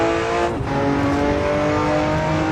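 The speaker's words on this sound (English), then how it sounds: "So first up, we have the Roof RT12. This is the all-wheel drive version. 730 horsepower." Ruf RT12 all-wheel-drive supercar rated at 730 horsepower in the Assetto Corsa racing game, its engine droning loud and steady at high revs throughout.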